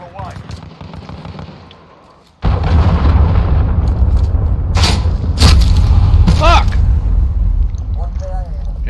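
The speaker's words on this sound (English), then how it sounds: "Allied cruise missile away." Booming cruise missile blast in the video game Call of Duty Modern Warfare, a sudden heavy low rumble that cuts in after a quieter stretch and rolls on loudly, with sharp pops and gunfire layered over it and a voice talking.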